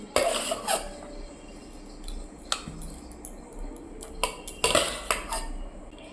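Dishes and cutlery clink as home-cooked food is served onto a plate in a kitchen, with a few sharp scattered clatters between quieter stretches.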